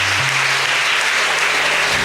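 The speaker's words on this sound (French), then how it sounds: "Applaudissons pour Jésus." Loud, dense applause from a church congregation, steady and continuous for a couple of seconds, with a faint voice underneath.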